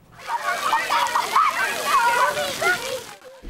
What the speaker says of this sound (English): The Vermilion Spray Park has been busy, as many are getting out to enjoy the cold water on these hot, sunny days.